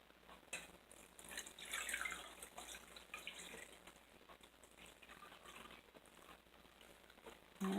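Simmered, cooled jewelweed liquid is poured through a strainer, giving a soft, uneven trickle and patter of liquid that swells and fades over a quiet kitchen background, with no talking.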